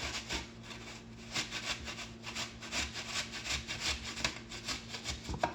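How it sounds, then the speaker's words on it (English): Apples rubbed down on a grater, a run of rhythmic rasping strokes at an even pace, close and fairly quiet, with no talking. "We're just going to grate these apples down."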